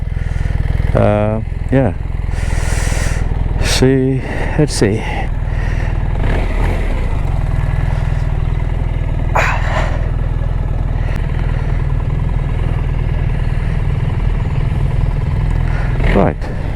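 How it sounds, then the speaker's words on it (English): A 2025 BMW R1300RS motorcycle engine with an Akrapovic exhaust cranks and catches, then settles into a loud, steady, rumbling idle with a few revs. Someone speaks briefly at the start. "let's start the bike"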